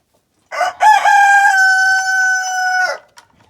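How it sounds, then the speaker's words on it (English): A rooster crows once, loud and close, a long drawn-out call lasting over two seconds against a quiet background. "This guy's going to come over here and crow again."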